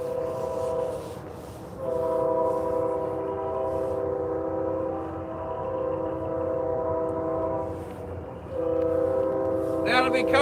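A Norfolk Southern freight train rolls past on the Atlanta North End District line, its multi-chime horn blaring loud and sustained in long blasts with brief breaks, over a steady rumble of the locomotive and cars.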